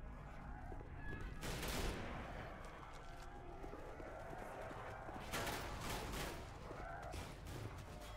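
Dense, continuous gunfire from a Left 4 Dead 2 firefight, with bursts of rapid shots swelling around the second and fifth seconds over a busy rumbling background of battle noise.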